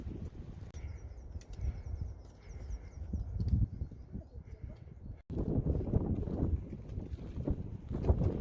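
Strong wind gusts roar across the microphone at the Col de la Ferret mountain pass on the Tour du Mont Blanc, a steady low buffeting with a brief drop in the middle. A few faint, distant sounds from a crowd sit beneath it.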